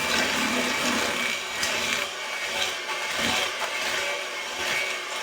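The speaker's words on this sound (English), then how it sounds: "I'm just going to mix this on up" Stand mixer beating oatmeal raisin cookie dough, a close continuous whirring scrape with rhythmic thumping surges, no voices.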